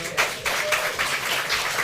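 Crowd applause from an audience at a political speech, a steady wash of many hands clapping with slight surges, sustained throughout without a break.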